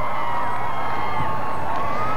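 A large outdoor crowd cheers for Gorbachev during his 1990 Minnesota visit, with schoolchildren dressed in red among them. The shouts and whoops form a loud, sustained roar that stays even throughout.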